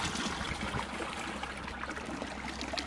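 Water trickling from a natural spring at a historic 1864 prison camp site, a steady soft dribbling wash that runs evenly and alone throughout without any voices.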